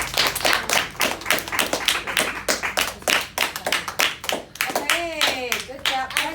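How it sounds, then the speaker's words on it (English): Classroom audience of children clapping steadily for a girl's presentation, a run of sharp rhythmic claps that goes on for several seconds, with kids' voices rising near the end. "give her a big round of applause"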